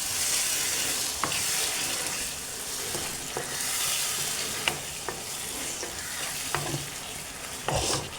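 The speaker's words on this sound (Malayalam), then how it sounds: "ഇനി ഇതിലേക്ക് പുളിവെള്ളമാണ് ഒഴിക്കണം. വാളംപുളി പിഴിഞ്ഞ വെള്ളമാണ് കേട്ടോ." Tamarind water goes into a sizzling sardine curry with bird's eye chillies, a constant loud frying hiss broken by occasional clinks and scrapes of a spoon against the pan, with no voices.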